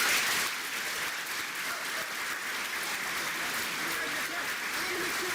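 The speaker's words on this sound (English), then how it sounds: "Give a warm round of applause for the Associate Vice President of Student Affairs" Steady applause from an audience at a university house dedication ceremony, broad and continuous for several seconds, greeting the Associate Vice President of Student Affairs as she comes up to speak.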